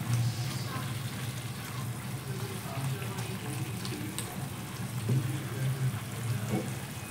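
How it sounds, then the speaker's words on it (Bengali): Raw green mango simmering in melted jaggery for a mango chutney, with a steady soft bubbling and faint sizzle throughout, a few light stirring scrapes rising at moments. "গুড়টাই গলে গিয়ে ওতেই আমটা ভালোভাবে সেদ্ধ হয়ে যাবে।"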